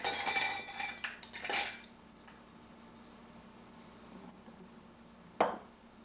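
Dough ingredients with vinegar and salt mixed in a bowl, a burst of utensil clatter and clinking for the first couple of seconds, then near quiet with one sharp knock near the end.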